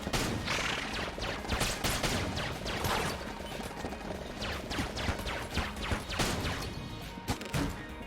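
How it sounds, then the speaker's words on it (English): Bursting shots that split into small shotgun-style blasts in Enter the Gungeon, a dense run of sharp cracks and impacts coming in quick irregular clusters throughout. "the shots will explode into a little mini shotgun blast"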